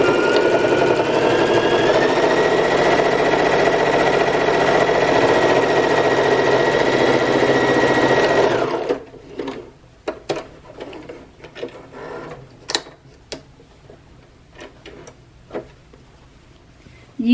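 A sewing machine stitches a fabric bag with a steady, fast mechanical whirr for about eight seconds, then stops, followed by quiet clicks and fabric handling.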